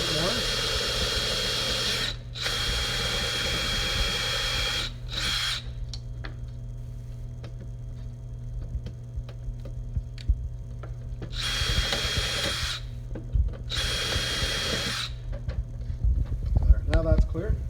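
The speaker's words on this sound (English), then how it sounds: "so we'll drill a little more." A power drill bores out a roller wheel on a gate panel in several loud, close bursts of whining and grinding, separated by pauses filled with low hum and small knocks.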